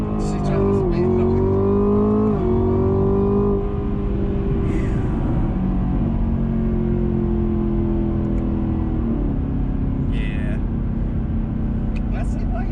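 A 2021 Chevrolet Camaro ZL1 1LE accelerates hard in second gear, its loud engine drone climbing in pitch with a brief shift-like dip, heard from inside the cabin with people talking over it.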